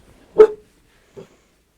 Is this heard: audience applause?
no